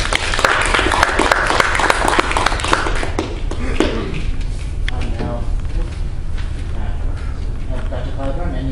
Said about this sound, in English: I would like to just give a nice big round of applause